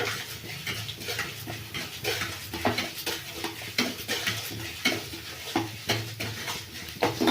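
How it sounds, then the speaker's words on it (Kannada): Mint leaves roasted and stirred in a pan for chutney, with repeated scraping strokes of a spoon against the pan in an uneven rhythm, close and fairly quiet with a light sizzle beneath. "ಇದು ಕಲರ್ ಚೇಂಜ್ ಆಗೋವರೆಗೂ ಹುರ್ಕೊಳ್ಳೋಣ ಬ್ರೌನ್ ಕಲರ್ ಬರಲಿ"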